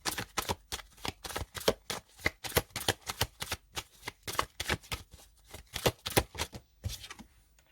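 Tarot cards are handled and shuffled close up in a quiet room, a rapid series of sharp papery riffs and flicks coming in irregular bursts, with no voices over them.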